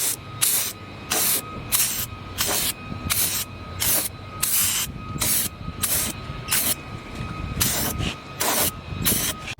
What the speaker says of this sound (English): This right here is about 4 cans of that spray bed liner.